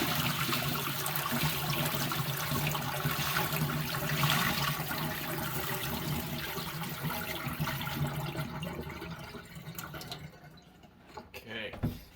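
Hot water is dumped out of aquarium sand as a steady, loud rushing pour that lasts about ten seconds, then thins into scattered splashes and drips.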